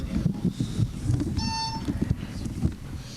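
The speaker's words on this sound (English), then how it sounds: "Would you test your buzzer, please?" A quiz bowl buzzer is tested during a school quiz competition final: a single sustained electronic tone lasting about half a second rises out of a busy room with crowd murmur and handling noise.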